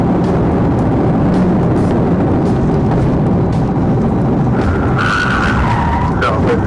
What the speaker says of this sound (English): The suspect's vehicle spun in a circle right on the road.